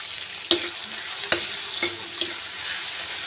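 Onion, tomato, green chilli and curry leaves sauté in a pan with a steady soft sizzle, broken by a few sharp scrapes and clinks as a spoon stirs them, close by with no talking.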